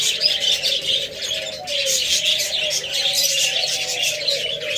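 Doves and cockatiels at a bird seller's shop call continuously, with bright chirps and tweets layered over low cooing. The chorus is close and fills the scene without pause.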